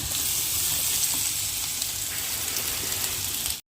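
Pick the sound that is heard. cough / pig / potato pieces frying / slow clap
potato pieces frying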